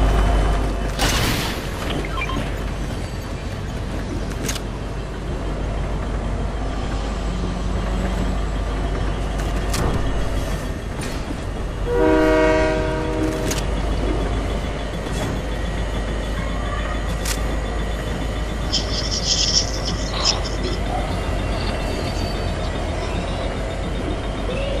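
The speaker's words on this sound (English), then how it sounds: "Sorry, we are on the train." A train rolls past in the video game Fortnite, with a steady mechanical rumble and a short tonal horn blast midway, heard over continuous game ambience without talk.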